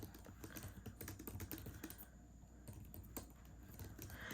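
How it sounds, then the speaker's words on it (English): Quick taps on a Samsung Galaxy Tab S7 keyboard case run in a steady, slightly uneven patter of soft plastic clicks, close and fairly quiet, with a short lull midway. "quick keyboard test"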